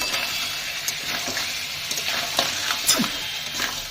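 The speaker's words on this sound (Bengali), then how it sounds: "এই টমেটোটাকে দিয়ে এটাকে ভালো করে নেড়ে চেড়ে নেব" Tomato being stirred into a spicy Bengali crab curry in a hot pan, with steady close sizzling and frying under soft scraping strokes of the spoon.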